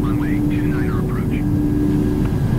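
PMDG 737 jet engines roaring steadily on the takeoff roll in the flight simulator MSFS 2020, a loud constant drone with a high whine, overlaid by short chirping sounds and a voice.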